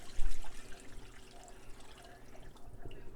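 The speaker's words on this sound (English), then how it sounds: "So I'm just going to pour water in there." Water poured into a pot of beef soup and marrow bones for bone broth, a soft continuous splashing and gurgling stream, close by with no talk.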